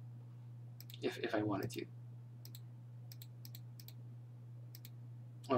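A computer mouse clicks repeatedly, often in quick pairs, while someone works in DAZ Studio 3D software. The clicks are crisp and quiet against a low hum, following a man's brief spoken phrase.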